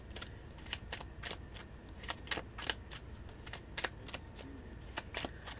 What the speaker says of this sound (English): I thoroughly shuffle all of these and I cut them before I set them down